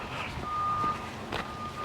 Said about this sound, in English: Beep, beep, beep, you can probably hear it. The combine reversing.